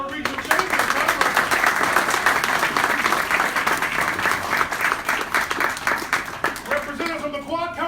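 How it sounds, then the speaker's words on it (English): Applause for the Aurora Regional Chamber of Commerce at a small business award event: a full, continuous round of clapping from an audience, fairly close and steady, with a voice coming in near the end as it tapers. "Round of applause for Aurora Regional Chamber of Commerce."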